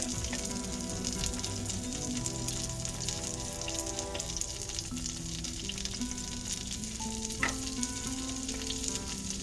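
Garlic fries in a pan for a Jamaican steamed fish dish, a soft continuous sizzle with fine crackles and an occasional stirring tap, close but fairly quiet.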